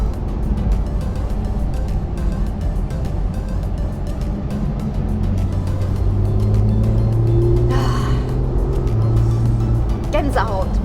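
A Porsche GT3 sports car drives along, its steady low engine rumble and road noise running continuously beneath a talking voice, with a few brief higher tones rising near the end.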